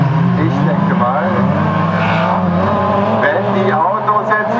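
Supertouring race cars roar loudly through an autocross circuit at Löhne, engines whining and shifting continuously up close, while a commentator talks over the noise.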